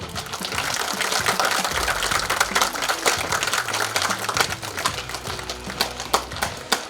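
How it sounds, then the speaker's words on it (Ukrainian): A stadium crowd at a Zvyahel versus Nyva Vinnytsia football match applauds soldiers, a dense, steady wash of clapping from many people with scattered louder claps, no voices over it. "Просимо подякувати нашим воїнам аплодисментами."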